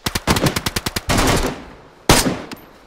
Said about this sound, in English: Got him. Shot him in the legs.